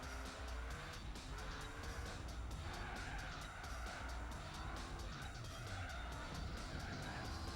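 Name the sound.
Saleen S7 race car skidding, Gran Turismo 4 video game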